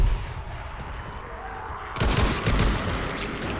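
A loud grenade explosion in the video game Dying Light booms suddenly after a stretch of rumbling ambience, and a broad roaring blast lingers to the end.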